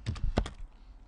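A few quick, soft keystrokes on a computer keyboard, a small cluster of clicks in about a second, then quiet.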